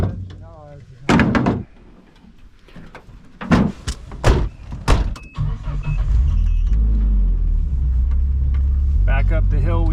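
Car doors clunk shut amid people talking, then a vehicle's engine rises into a steady, loud low rumble as it climbs a hill on a winter firewood outing.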